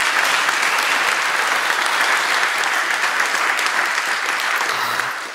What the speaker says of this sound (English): Let's give it applause.